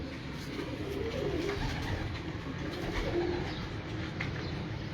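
Pigeons coo from a rooftop loft, a few soft low calls over a steady outdoor background without speech.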